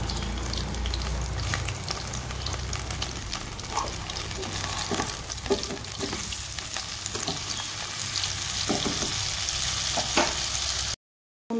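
Stuffed brinjal fries in hot oil in a pan, a close, continuous crackling sizzle with occasional stirring scrapes and bursts, cutting briefly to silence just before the end.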